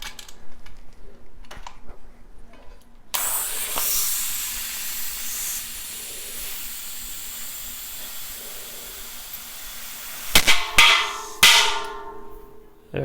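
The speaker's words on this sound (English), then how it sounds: "Air compressor," Air compressor inflating a road bicycle tire through the valve, a steady loud hiss that starts abruptly after a quiet moment and runs on, ending with a few short bursts and sputters of air.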